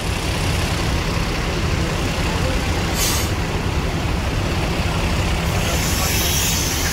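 A heavy diesel bus engine rumbles steadily close by, with a brief burst of hissing air partway through.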